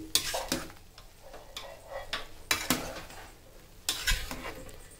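Meal maker soya chunks being stirred in a pot of boiling water, with sharp spoon scrapes and knocks against the vessel coming in short bursts over a steady bubbling bed.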